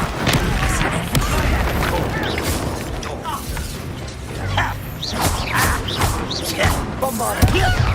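Spell combat in Hogwarts Legacy, including the Bombarda explosion spell, with loud booming blasts, thuds and crashing impacts over a dense game soundscape while a voice speaks.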